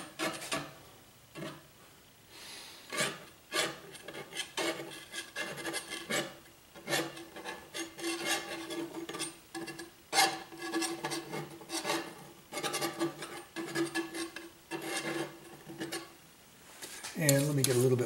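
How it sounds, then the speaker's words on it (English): Wet oil paint is scraped on a landscape painting of aspens in shadow, giving repeated rasping, rubbing strokes of varying length. They sound close and fairly loud, with a person talking intermittently between them. "since the paint's still wet, let's go put some scrapes up in here"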